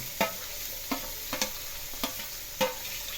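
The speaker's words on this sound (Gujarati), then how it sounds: "હવે ધીમે ધીમે સાતરતા જઈએ." Vegetables with garlic, green chillies, potatoes and carrots sauté in a pan for vegetable khichdi, sizzling quietly while a spoon scrapes and stirs in sharp, evenly spaced strokes about every half second.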